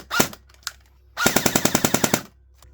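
A G&G Pretone Raider M4 airsoft gun on a lipo battery fires two quick single shots, then a rapid burst of about a dozen evenly spaced shots, close and loud with no talking.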